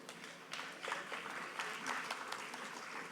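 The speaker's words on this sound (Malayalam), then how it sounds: "ചില ആൾക്കാർ ഇത് കേട്ട് കൈയടിക്കുന്നുണ്ട്." A crowd of people clapping, a dense, steady patter of many hands held at a moderate level for the whole stretch, with no voices standing out.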